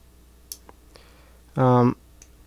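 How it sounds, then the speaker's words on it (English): A cat gives a single short, loud yowl indoors, standing out after a few faint clicks and taps while a sitar is being restrung. "and now the cat's yowling"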